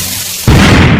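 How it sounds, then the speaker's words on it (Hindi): A cartoon bomb goes off with a sudden, loud booming blast after a quieter lead-in, and the roar stays loud for the rest of the moment. "ये बहुत खतरनाक बम है, इसके धमाके से पूरा घर दहल जाएगा"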